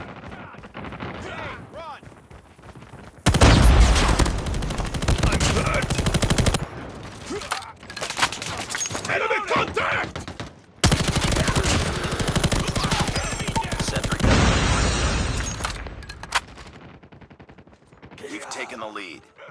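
Intense gunfire on the Nuketown map in Call of Duty Mobile: loud bursts of sniper and rapid shots in dense clusters, separated by brief quieter gaps, close and aggressive.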